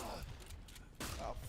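A shotgun firing in a video game: one loud broadband blast near the start and a second sharp blast about a second later, both close and punchy, with game noise in between.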